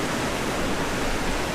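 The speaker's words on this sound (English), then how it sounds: "Bye waves, beautiful waves to surf on." Ocean surf rolling onto the shore near Casablanca, a steady broadband wash of breaking waves with no distinct break, constant and fairly close throughout.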